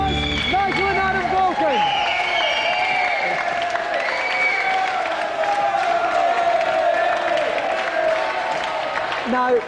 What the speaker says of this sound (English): A round of applause, Nigel and Adam